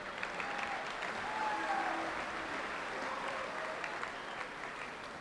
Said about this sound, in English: we first need to start off by giving Coach Kettle a round of applause